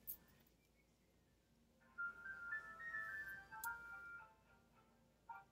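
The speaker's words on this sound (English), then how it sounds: "And my other phone is ringing," A phone's electronic ringtone plays a short melodic phrase from about the two-second mark, moderately loud and close, over quiet room noise.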